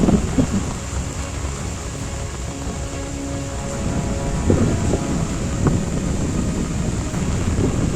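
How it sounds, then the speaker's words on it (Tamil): Heavy rain and gusting wind in flooding Jaffna make a steady rushing roar, with occasional low rumbles and faint tones underneath; no voices. "பாருங்க மழை"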